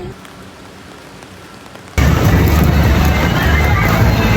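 Heavy rain pours steadily in Kuala Lumpur, Malaysia, a dense close hiss that starts suddenly partway through after a quieter stretch of faint background noise.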